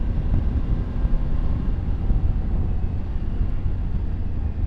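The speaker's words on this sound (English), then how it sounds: "open the throttle and slowly pick up the power" A 2023 Triumph Tiger 900 Rally Pro motorcycle's engine pulls steadily as the throttle opens, a constant loud low drone heavily mixed with wind rush, with no talk over it.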